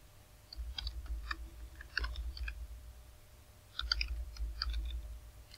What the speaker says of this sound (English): let me just type any email